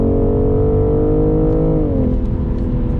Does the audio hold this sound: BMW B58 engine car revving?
yes